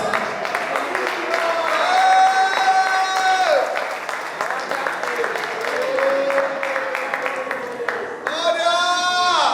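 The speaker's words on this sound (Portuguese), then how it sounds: "aplauda o Senhor Jesus de Nazaré" A congregation applauding at a church youth congress, steady crowd clapping running throughout beneath sustained voices singing or calling out, with a raised voice rising over the applause near the end.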